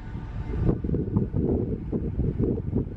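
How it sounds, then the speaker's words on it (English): Outdoor wind buffeting a microphone outside a concert venue, low rumbling gusts that swell and fade in uneven waves, fairly quiet, with no talk. "It's kind of windy actually."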